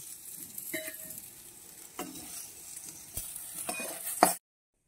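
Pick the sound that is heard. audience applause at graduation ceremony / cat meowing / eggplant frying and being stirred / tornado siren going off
eggplant frying and being stirred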